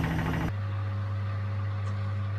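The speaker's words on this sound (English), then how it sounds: "This is the wash in full spin." A steady, loud low hum with a constant tonal drone and vibration from a Haier HWD80-1482 washer dryer in full spin, continuous and unchanging, no voices.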